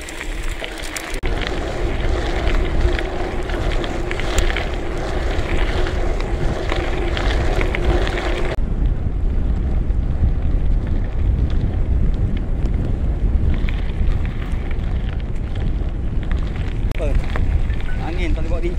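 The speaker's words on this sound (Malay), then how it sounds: "Angin tak boleh bawa bincang ni." Strong wind buffets and roars against the microphone in a continuous heavy rumble, with voices faintly mixed in during the first half.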